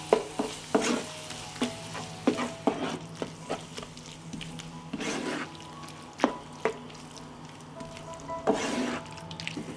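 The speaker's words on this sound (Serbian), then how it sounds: "Promešat ću i propržiti 1 minut." Ground Hungarian paprika frying with vegetables in a pan, a low sizzle under repeated scraping strokes of a spoon stirring at an uneven rhythm, close and fairly quiet, with no talk.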